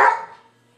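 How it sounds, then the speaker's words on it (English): A single close bark from Buster, a dog, sharp at the start and trailing off quickly into quiet. "What are you barking at?"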